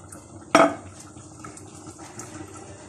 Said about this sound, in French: Et je travaille avec de la fourchette.